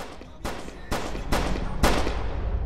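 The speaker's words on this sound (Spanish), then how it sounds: "6 tiros de pistola" Gunfire from a pistol in a shooter video game, four sharp shots spaced about half a second apart over a continuous noisy background, loud and close.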